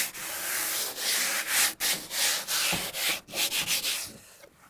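Sandpaper is rubbed by hand over wooden siding in a series of close, rhythmic scratchy strokes with brief pauses between passes, continuing steadily with no voices.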